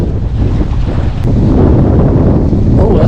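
Strong wind buffeting loudly and steadily at a shoreline land-fishing spot, a continuous roaring rumble with waves faintly mixed in.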